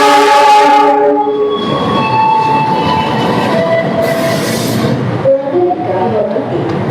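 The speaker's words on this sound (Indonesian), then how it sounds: "Ini dia rangkaiannya telah masuk di jalur 1 ya." The Parahyangan passenger train pulls in at a station platform, its horn sounding in long sustained tones over the rumble and clatter of the cars, loud and close.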